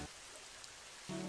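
Steady rain falls in a cartoon scene, a soft continuous hiss of drops on a surface that holds evenly throughout before a brief tonal sound cuts in at the end.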